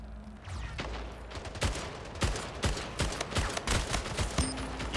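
A carbine in the arena shooter Splitgate fires repeatedly in sharp, evenly spaced shots over a constant game backdrop, loud and close, with brief pauses between short strings of rounds.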